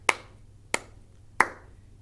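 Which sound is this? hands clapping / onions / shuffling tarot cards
hands clapping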